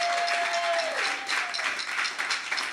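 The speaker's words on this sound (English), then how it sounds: "I need a round of applause for all the artists that graced our stage." An audience at a live music show applauds the artists, steady scattered clapping at moderate level, with a sustained tone fading out early on.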